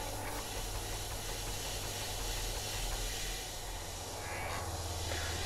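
An Arduino-based DIY tube phaser effect prototype with a spinning mechanism and added vibrato, heard as a steady dense hiss over a low hum, slowly sweeping and wavering throughout without pause.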